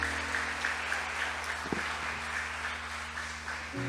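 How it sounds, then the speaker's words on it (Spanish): Church congregation applauding steadily in a large room, a continuous wash of clapping with a low hum beneath it. "¿Cuántos le dan un aplauso al Señor por eso?"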